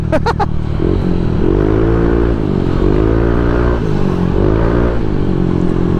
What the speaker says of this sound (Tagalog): Parang motor ko lang yung naririnig kong maingay dito ah.